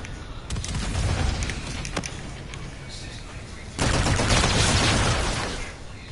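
Gunfire and bomb blasts from Infinite Warfare, with sharp shots early on and then a loud, sustained explosive roar that rumbles for several seconds.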